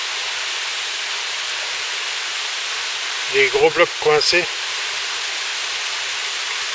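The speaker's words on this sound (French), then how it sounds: "Le bas de la cascade de 25." Waterfall at the foot of a 25-metre canyon cascade, a steady broad roar filling the whole clip, with someone speaking briefly over it partway through.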